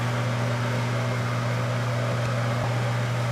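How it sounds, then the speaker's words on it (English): A steady mechanical hum drones on without a break, the constant whir of a running microwave oven melting chocolate, nothing else audible over it. "You just want to keep melting it in the microwave for"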